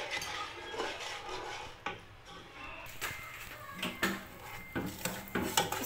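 Butter, honey and brown sugar being mixed in a pan, with quiet scraping and clinking of a spoon against the metal, irregular knocks and stirs heard close but faint.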